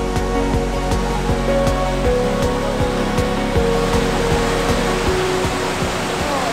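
A waterfall by a river at a bridge on a Jasper National Park hike roars as a loud, steady wash of noise, with faint clicking and tonal background sounds running through it.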